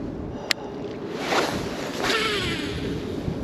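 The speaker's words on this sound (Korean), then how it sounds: "아 바람이 너무 많이 불어서 추워요" Strong wind gusts roar into the microphone beside the water during bass fishing, with a brief tick early on and two swelling gusts near the middle.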